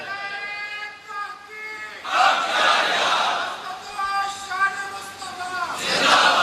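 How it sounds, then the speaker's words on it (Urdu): At a religious gathering, a lead voice calls out a sung phrase, and a large crowd answers the religious slogan in loud, ragged shouted bursts that surge twice and then die back. "آج تو ٹھنڈا ٹھنڈا نعرہ نہ لگائیں، میں نے اپیل کی تھی کہ نعرہ تحقیق بھی لگایا کریں"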